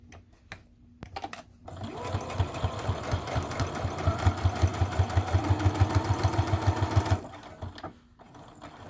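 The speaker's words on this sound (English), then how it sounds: "You're going to sew 1/8 of an inch, you know, so that you're close to the edge." Sewing machine stitching a seam close to the edge of a fabric wristlet, a steady rapid run of needle thumps lasting several seconds, close and clear, with brief mechanical clicks before and after.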